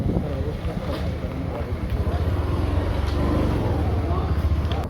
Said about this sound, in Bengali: এই যে নিচে ট্রলার পাচ্ছে